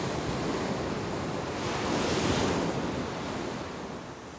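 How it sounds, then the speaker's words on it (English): Wind-driven waves crash continuously around a wild, windy cliff-top settlement in an archipelago, a dense roar of surf and gusting wind that swells midway, with no voices. "It seems such an extraordinary place to live, so wild and windy, with these crashing waves all around."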